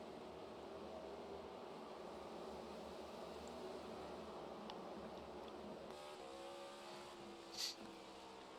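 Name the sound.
race car engine in NASCAR racing video game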